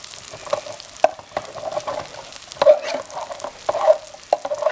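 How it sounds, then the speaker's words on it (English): Ground beef and onions sizzle and crackle in a fry pan, with scattered pops and the scrape of stirring, close up and steady. "I have a fry pan going next to it that has my ground beef and my onions in there frying up"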